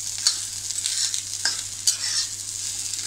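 Sliced okra stir-fried on a high flame, giving a steady close sizzle with occasional scraping stirs of the spatula, no voices.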